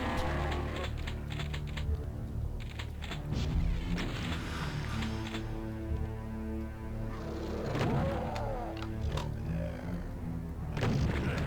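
Rocket explosions boom and crash in the classic shooter Eternal Doom. Dense, loud game noise carries through the clip, with heavier blasts near the start, the middle and the end.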